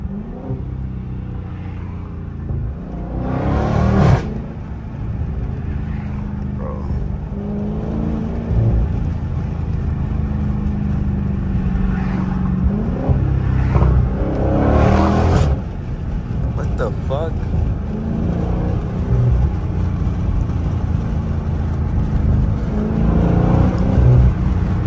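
A 2023 Dodge Challenger Scat Pack in track mode revs its exhaust in loud, repeated bursts over a steady engine drone, with someone talking over the sound from inside the car.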